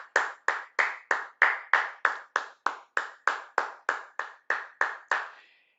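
About sixteen evenly spaced, sharp hand claps from a single clapper in a steady rhythm, close and dry, ending with a brief fading tail.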